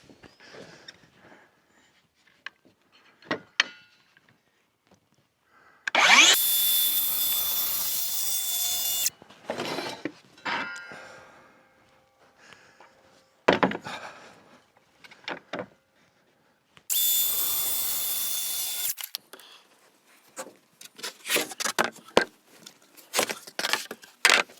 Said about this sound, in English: I can run the jigsaw through